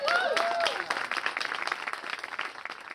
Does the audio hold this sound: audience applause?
yes